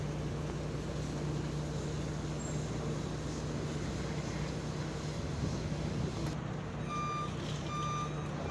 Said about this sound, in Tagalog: Atras pa yung truck sa loob.